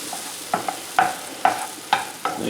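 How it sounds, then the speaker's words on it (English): Mushrooms sauté in a pan, a soft steady sizzle broken by several stirring scrapes at an uneven pace, close by with no voices. "It only takes a couple minutes to saute these mushrooms"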